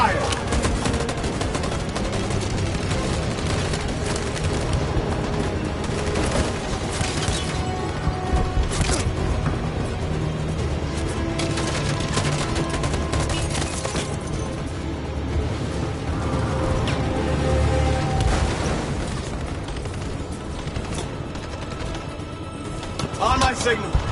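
Sustained gunfire from a squad opening up in the video game Detroit: Become Human, a dense, continuous rattle of overlapping shots over a rumbling battle bed that runs unbroken for more than twenty seconds, with voices mixed in.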